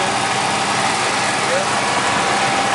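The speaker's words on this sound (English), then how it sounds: "Now we have the generator and the engine running." A 2003 Damon Daybreak 3270 motorhome with its Triton V10 engine and generator running together, a steady, loud idling drone with constant rumble and no pauses.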